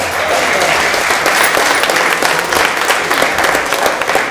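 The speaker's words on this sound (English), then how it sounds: "So give yourself and your country a one more round of applause." Sustained audience applause fills a hall at a Kwe Kwe Night school event, a dense steady wash of many hands clapping, loud and continuous throughout.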